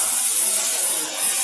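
Water sprays from a nozzle onto circuit boards in the recycled-water washing section of a small production etching machine, a steady, loud, bright hiss that runs continuously throughout.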